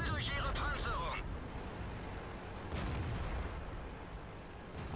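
World of Tanks battle with heavy tank cannon fire and a deep booming rumble running through the whole stretch, and one sharper shot partway through, loud and close.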